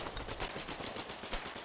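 Rapid automatic gunfire from the war game Foxhole crackles at a distance, a fast rattling burst of repeated shots at moderate level with no talk.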